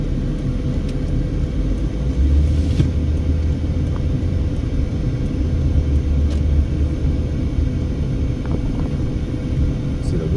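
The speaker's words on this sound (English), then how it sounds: "The winds have really picked up now." Strong windstorm gusts in east Las Vegas near Sandhill and Sahara, a loud, constant low roar buffeting the microphone, with a person's voice briefly audible.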